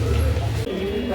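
Racing pigeons at a seller's stall give close, low cooing in the opening half, then a busier mix of murmuring and faint voices follows.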